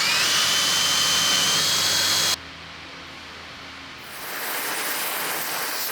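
Power drill boring out three broken-off bolts during a Panzer I Ausf. B tank restoration, a loud steady whine for about two seconds that cuts off abruptly, then quieter workshop hiss building back up.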